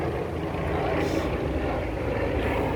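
A steady low rotor drone from an aircraft overhead, constant and fairly loud throughout, with no one speaking.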